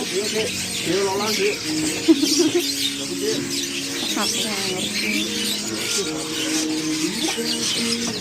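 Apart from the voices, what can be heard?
birds chirping at a bird market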